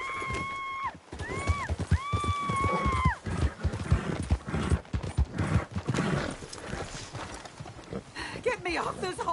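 A horse neighs loudly near the start, then hooves clatter at a gallop, mixed with shouting voices and scuffling throughout a chaotic, close scene.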